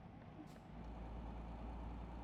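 Steady low rumble of a truck engine in the Euro Truck Simulator driving game, a constant droning hum with a brief hiss near the start, heard alone with no talk.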